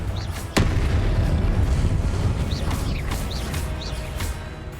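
A Confringo fire spell blasts in Hogwarts Legacy during a fight with a Pentaguardian: one sharp, loud explosive crack followed by a dense rumbling tail, with faint whooshing spell effects over it, no talk.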